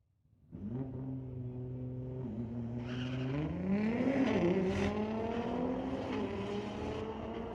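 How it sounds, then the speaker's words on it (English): A Nissan GTR launches off the line at a street-legal drag night at Mission Raceway Park, its engine snarling up through the revs in a rising roar with a gear change, loud and fairly close. "Nissan GTR. That sure sounds great, don't it?"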